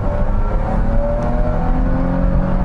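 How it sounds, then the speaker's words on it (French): A BMW E24 635 CSi engine revs up steadily on small roads, a loud continuous drone heard from inside the car, with no talking. "Alors on peut accélérer un peu."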